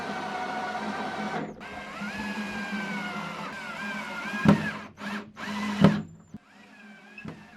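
A power tool, likely a drill driver, fastens a base onto the bottom of a small dresser, whirring steadily with two sharp louder bursts near the end.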